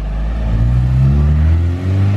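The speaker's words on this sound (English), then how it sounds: "I want to see what this 3-inch exhaust sounds like." Honda EP3 with a K24a2 engine and a 3-inch stealth exhaust with long resonator, a loud, close, steady low exhaust drone with a slight rise in revs as the car drives.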